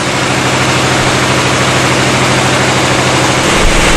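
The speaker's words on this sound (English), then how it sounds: "You can also see that there is a drop in engine RPM as the load increases" Air-cooled single-cylinder diesel engine running under load on a test rig, a loud steady low chugging drone whose pitch shifts slightly near the end as the revs drop, close with no voices.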